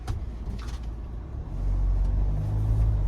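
A modified 2025 Mahindra Thar with a 2.2-litre diesel engine and automatic 4x4 drivetrain drives along, a low heavy rumble from inside the cabin that swells louder as it accelerates halfway through, with no voices.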